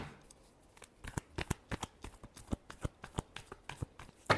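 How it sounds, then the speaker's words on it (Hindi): Deck of cards being shuffled during a tarot-style reading: a quiet run of crisp riffling snaps that speeds into a dense flutter, then ends with a sharper final slap. "last shuffle"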